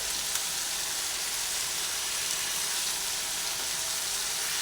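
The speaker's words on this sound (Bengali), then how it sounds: "এরপরে আবার ভালোভাবে নাড়াচাড়া করে দিচ্ছি" Cucumber curry with green chillies sizzles steadily in a pan while being stirred, a constant close hiss of frying with no talk over it.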